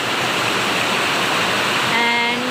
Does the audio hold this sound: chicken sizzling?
no